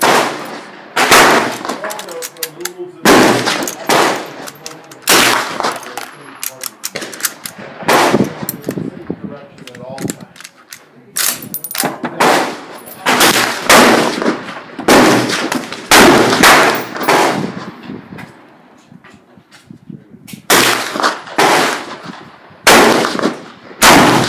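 Rifle fire from a Mosin M44 and a Type 53 at an outdoor shooting session: a long series of loud, sharp gunshots, fired one after another at irregular intervals, each shot trailing off in a ringing echo.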